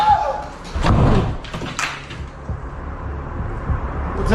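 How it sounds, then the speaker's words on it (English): A door slams shut right beside someone, a heavy thud landing near the start, followed by a busy, noisy room with scattered knocks and rustling. "a door right next to him slams shut"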